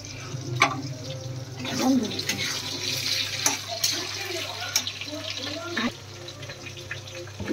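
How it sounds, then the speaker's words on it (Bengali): Water from rinsing a spice bowl is poured into a pan of chicken 65 masala, a steady splashing pour heard close up in a home kitchen, with a low background hum throughout. "মশলার বাটি ধোয়া জলটাও দিয়ে দিয়েছে মা"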